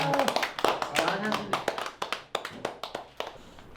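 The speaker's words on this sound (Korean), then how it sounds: "박수를 치르셔야죠" Studio audience on a broadcast show claps for a tiger painting finished with a brush in six minutes, sharp scattered claps from a few people overlapping with lively talking.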